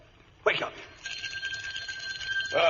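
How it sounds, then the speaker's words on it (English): A front doorbell rings as a radio drama sound effect in an old Sherlock Holmes story, a steady, shrill electric ring lasting over a second, framed by brief clatter and voices at either end. "But I think the front doorbell just rang."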